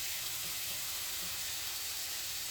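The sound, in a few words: onions dropped into hot oil, sizzling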